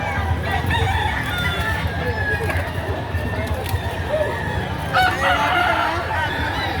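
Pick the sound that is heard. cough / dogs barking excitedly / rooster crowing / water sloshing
rooster crowing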